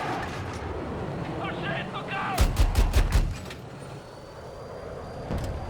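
Burst of rapid gunfire from a wall-penetrating weapon in a shooter video game, about five loud shots in quick succession mid-clip, with a player talking over the game audio before and after.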